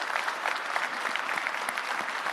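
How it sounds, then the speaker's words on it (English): A summit audience gives a standing ovation at an entrepreneurship event in Hyderabad, producing dense, continuous clapping from many hands that stays loud and even throughout with no break. "a big applause, a standing applause to all the people"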